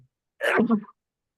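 A single sharp sneeze bursts out close to the microphone, loud and brief, then silence.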